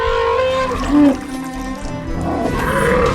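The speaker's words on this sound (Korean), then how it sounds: "드디어 모습을 드러낸 코끼리. 그런데 코끼리는 갑자기 난동을 피우기 시작하고" Loud, tonal trumpeting and bellowing calls from a rampaging elephant, several harsh blasts close by over a low rumble.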